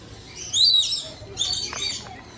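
Bright bird calls and chirps in two clusters, fairly close, over a quiet low hum; no distinct clucking stands out.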